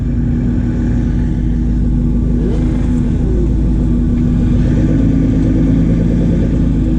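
An Audi R8 with a tuned exhaust pulls hard down a drag strip, its engine roaring loud and steady from inside the car with a rising growl as it accelerates through the gears.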